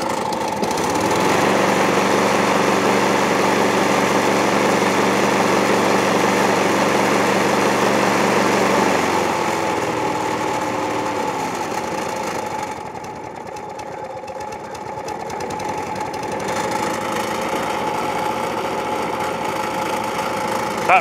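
A Hayter 56 lawn mower engine idles steadily and loud, its pitch dropping partway through, with a recoil starter rattling over the running engine.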